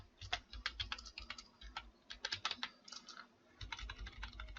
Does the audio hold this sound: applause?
no